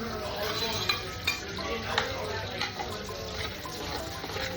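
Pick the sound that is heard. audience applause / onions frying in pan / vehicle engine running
onions frying in pan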